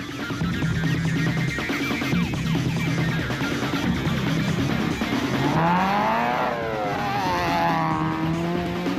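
Off-road production race vehicles set off in the prologue of the Diamond Route 200 rally, engines revving loud and close with rising pitch sweeps and tyre noise as they pull away one after another.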